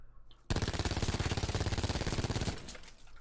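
Rapid automatic gunfire from a weapon fired while strafing in Black Ops 4, a dense, steady stream of close, loud shots lasting about two seconds before stopping abruptly, with a faint tail afterward.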